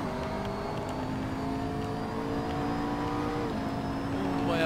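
A car engine drones loud and close as it accelerates hard out of a corner, its pitch holding then dipping briefly at a gear change before climbing again.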